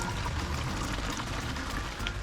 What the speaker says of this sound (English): And just pour your cider right on top there.